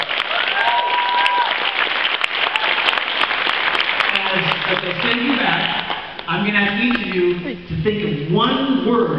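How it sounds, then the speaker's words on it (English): Audience applause for a group of women at an event, a full steady clapping wash at first, then fading as a speaker's voice takes over and talk continues. "one more big round of applause for all the Ruby ladies"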